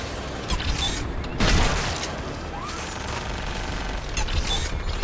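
Gunfire from a gun in a BioWare video game, a burst of bursty shots and booms over a dense, busy game soundscape, with one louder blast early on.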